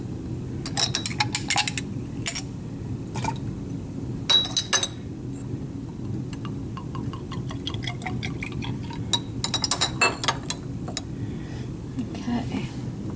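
Laboratory glassware is rinsed with water for a CTAB solution, giving a continuous wash of running water broken by bright clinks and taps of glass handled close by, irregular throughout.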